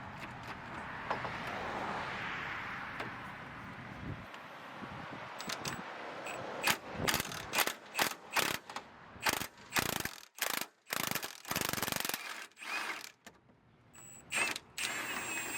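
A ratchet wrench with a swivel head works loose the rear bolts on the front suspension of a Honda Civic EP3, giving close, rapid bursts of clicking in an uneven rhythm after a softer rustling start.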